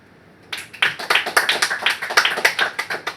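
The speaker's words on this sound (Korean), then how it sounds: "박수!" A classroom of students claps hands together after a short quiet start, with quick, uneven claps running close and steady to the end.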